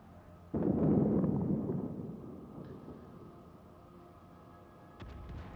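Naval gunfire from the battleship Hindenburg in a naval warfare video game: a sudden deep boom rolls in and fades over a couple of seconds, with a second, smaller blast near the end.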